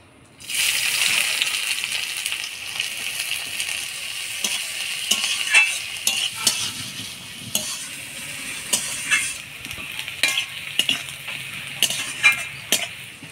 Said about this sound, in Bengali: পেঁয়াজটা লাল লাল করে ভেজে নিলাম